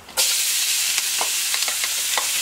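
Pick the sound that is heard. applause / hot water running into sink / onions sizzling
onions sizzling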